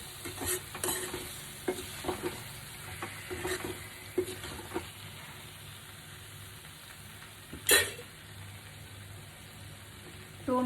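Egg curry with fenugreek leaves and tomato is stirred in a pan, with a soft steady sizzle running under repeated spoon scrapes and taps. One sharp clink stands out near the end.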